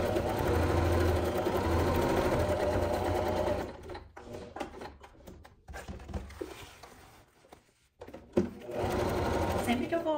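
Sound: sewing machine stitching a seam around a nylon bag

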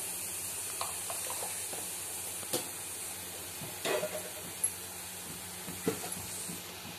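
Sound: fish podimas masala sizzling while frying in oil

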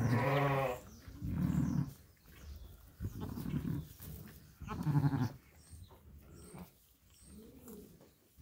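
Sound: lambs bleating

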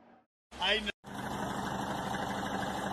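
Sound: modified Toyota Hilux engine and exhaust idling

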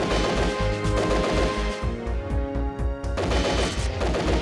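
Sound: gunfire from a video game gun

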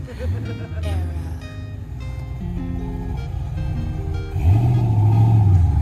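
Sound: old truck pulling up

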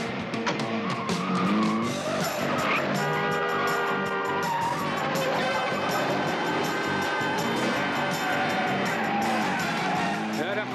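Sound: car skidding during a chase

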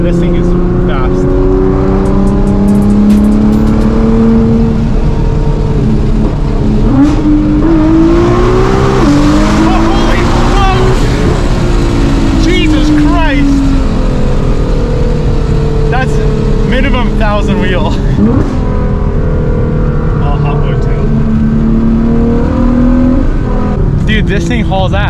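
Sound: Nissan GT-R accelerating hard

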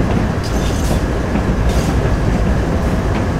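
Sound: large locomotive running on rails in Train Sim World video game

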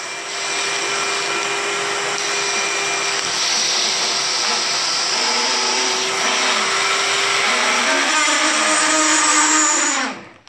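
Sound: vacuum running on Hummel H5 vacuum forming machine

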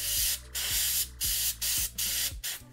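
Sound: airbrush spraying paint on miniatures

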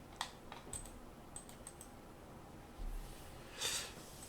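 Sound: computer mouse clicks and Enter key presses

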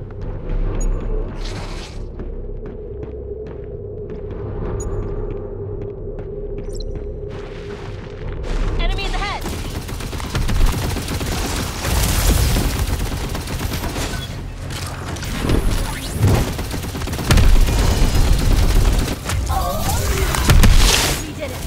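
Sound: rifle gunfire in video game Earth Revival

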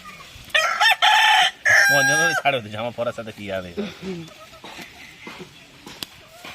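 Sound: chickens squawking

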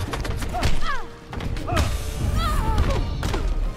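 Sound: Lex Luthor spirit bomb impact in Injustice video game

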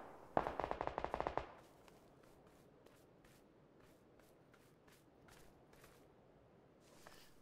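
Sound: DMR rifle gunfire in PUBG video game

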